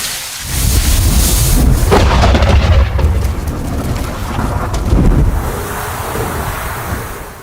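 A thunderstorm rumbles loudly over harsh open land, with heavy rain, deep rolling thunder and wind buffeting the microphone, swelling and easing across the scene.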